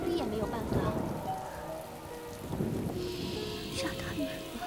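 Heavy rain pours outside in a steady dense hiss of drops on surfaces, continuous throughout, with faint voices and tonal sounds over it.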